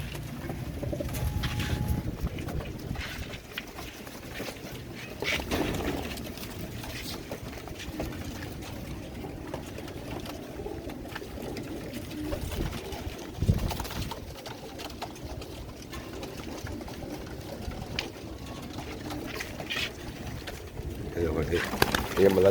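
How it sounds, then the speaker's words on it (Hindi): Pigeons coo softly in a low, murmuring chorus, with people talking nearby and occasional rustling and flapping sounds throughout. "ये कुछ कबूतर इनमें से मोहकम भाई के भी हैं"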